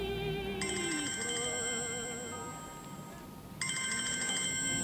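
Telephone ringing indoors with a repeating electronic ringtone, two bursts of steady high tones separated by a short pause, fairly close and alone without talk.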